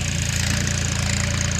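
A farm tractor's diesel engine idles in a field at maize sowing time, producing a steady, loud low chugging rhythm up close with no talking.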